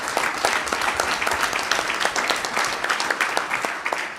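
An audience at an MTA board meeting breaks into applause: a dense, steady wash of many hands clapping from a room-sized crowd, holding for a few seconds before slightly thinning.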